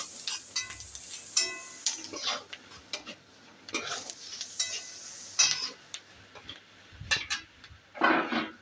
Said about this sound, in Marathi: या मसाल्याला 1 मिनिट तेलामध्ये असं छान परतून घ्यायचं आहे